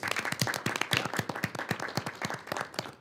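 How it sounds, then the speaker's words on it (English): A small audience at a school board meeting applauds students, with close, distinct handclaps in a steady, fairly even rhythm that carries on without pause. "I think that we need to give all of those students a round of applause."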